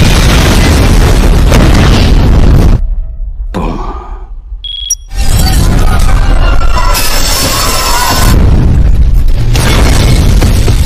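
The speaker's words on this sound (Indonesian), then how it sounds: "The bomb is exploding." A bomb explosion in the 2011 action film Don 2: loud booming blasts and heavy rumble, a sudden drop to near silence with a brief high tone, then another massive roaring burst.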